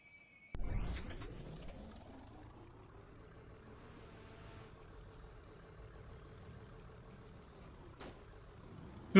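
In a Roblox-style video game, a car engine cranks and catches, then settles into a low, steady idle that holds evenly and fairly quietly, with a brief sharp click near the end.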